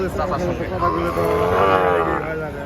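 Gir breed bull calves at a cattle sale moo in long, drawn-out calls, fairly close and loud, with a crowd's murmur in the background.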